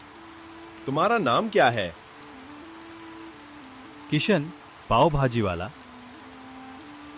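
Steady rain pours down throughout, a continuous hiss under two voices talking back and forth at a pav bhaji stall.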